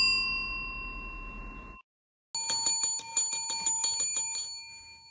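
A bright notification bell chimes in a rapid run of about a dozen evenly spaced ding strikes, preceded by a sustained ringing tone and a brief silent gap, loud and alone with no talk.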